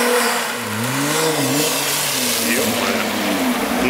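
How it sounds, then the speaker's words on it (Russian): A Nissan GT-R Stage 2 revs hard as it slides sideways in a drift, its engine note rising and falling through several loud, wavering pulls with speech faintly over it. "GTR сейчас будет пытаться ехать боком"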